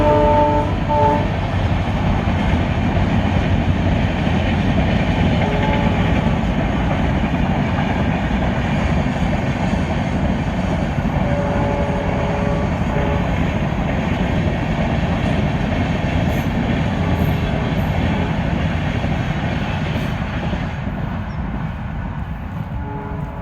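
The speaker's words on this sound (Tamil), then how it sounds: "பார்ப்போம் என்ன ட்ரெயின் வருதுன்னு." A train rolls past nearby for the whole stretch, a loud steady rumble with faint clacking that eases slightly near the end.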